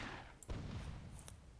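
A cannon fires in the strategy game Myth II: Soulblighter during a WWII-themed tournament match, heard as a single faint, distant thud with a short low rumble over quiet game ambience.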